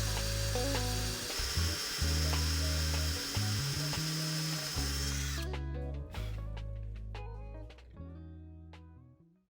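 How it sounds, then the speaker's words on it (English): A loud electric drill with a 1/2-inch bit whines steadily as it bores out a mortise in wood for a breadboard end, then cuts off, leaving scattered knocks and clatter from the workpiece. "you take a 1/2-inch drill bit and you drill out the areas that you previously marked"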